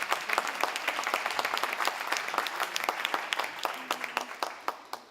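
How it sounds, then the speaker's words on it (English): A standing audience applauds at a meeting-industry conference keynote, dense sustained clapping from a large crowd filling the room, loud and continuous with individual claps popping out near the end. "Please stand for applause."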